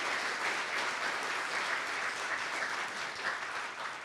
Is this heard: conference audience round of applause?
yes